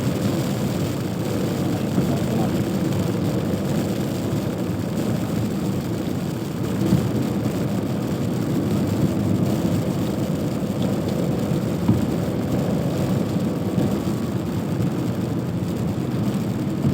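Continuous heavy downpour drumming on a car while it drives at night, a dense even rush of rain and tire noise with no voices.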